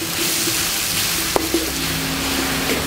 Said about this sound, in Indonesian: Kita tumis bumbu ini sampai harum.